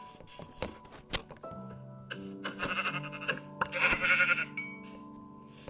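Sheep bleat in a hardcore survival video game, several nasal bleats repeating close by among layered electronic game tones.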